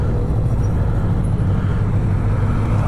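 A 1978 Honda CB550F motorcycle engine idles steadily, a continuous low rumble at an even level throughout with no talking.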